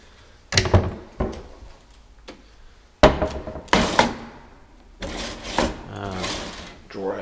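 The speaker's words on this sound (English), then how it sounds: "Drawer has a little bit of difficulty opening." A stiff kitchen drawer in a house is pulled open with difficulty, several sharp wooden thunks and scraping rattles in separate bursts, close and moderately loud.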